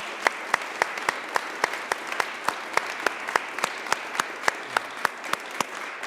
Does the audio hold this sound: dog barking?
no